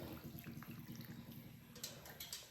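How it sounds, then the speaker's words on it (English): Hot water poured over rinsed bulgur wheat in a kitchen, a soft continuous trickling and splashing stream lasting a couple of seconds, close but fairly quiet. "I'm gonna pour some hot water on it."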